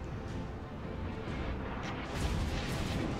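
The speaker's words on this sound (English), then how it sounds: "someone's shooting at me!" Naval gunfire in World of Warships, a steady rumbling barrage of distant heavy guns and explosions forming a continuous low roar without distinct individual shots.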